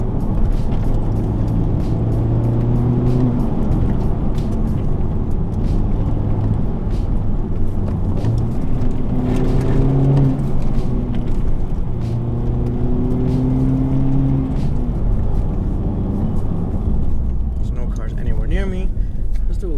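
A Honda Civic Type R accelerates hard along a winding gravel-strewn road, its engine drone rising and falling in pitch through gear changes under heavy road and wind rumble, with a voice at times.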